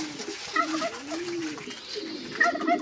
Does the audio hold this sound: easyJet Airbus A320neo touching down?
no